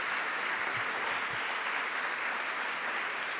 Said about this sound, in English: Can you just give me a round of applause for everybody who's put this together?